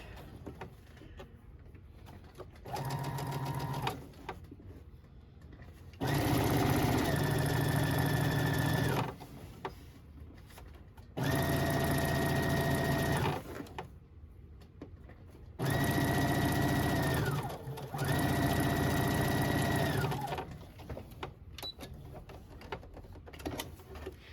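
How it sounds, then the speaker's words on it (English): Sewing machine stitching rickrack trim onto the edge of a toddler dress sleeve, running in four loud, steady bursts of a few seconds each, separated by quieter pauses. "we're going to put a stitch just right down the middle of the rickrack"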